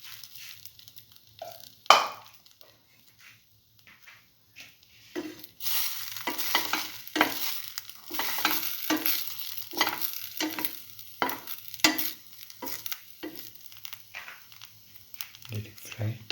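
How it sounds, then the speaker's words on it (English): Egg-dipped chili ginger garlic French toast bread sizzles steadily in a pan, with stirring and scraping noises over the frying and a voice talking throughout. "Let it fry."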